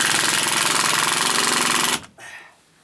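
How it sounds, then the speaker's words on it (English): A power screwdriver drives a screw into wood in an attic, a loud steady buzzing whir that runs for about two seconds and then cuts off, followed by a brief quieter rattle. "now put some screws in there"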